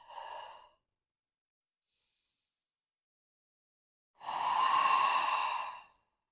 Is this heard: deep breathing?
yes